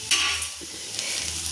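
Egg chowmein with fried bhujia is stirred in a pan, a steady sizzle under brief scraping and clinking of the utensil against the metal, close and fairly loud.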